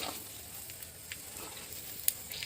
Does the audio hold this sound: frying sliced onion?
yes